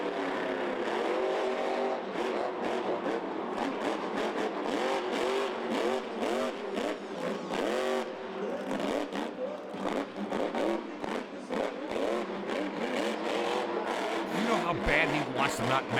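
Monster truck engines rev and roar at a Monster Jam stadium show in Las Vegas, a continuous loud throttle rhythm with rising and falling pitch, under commentators' talk and crowd noise throughout.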